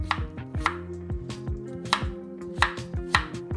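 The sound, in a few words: knife slicing the core out of quartered apples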